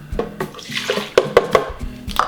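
Water pours into a measuring cup for chickpea flatbread (socca) batter in a home kitchen, a short splashy trickle with a few clinks of the cup, close and fairly loud with no talking.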